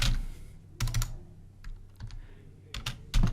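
Someone types a short name on a computer keyboard in quick, uneven bursts of crisp key clicks, close and clear, with short pauses between groups of strokes and no talking.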